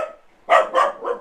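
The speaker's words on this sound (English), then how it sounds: "Excuse my dog." A dog barks three times in quick succession, close and fairly loud, with no talking over it.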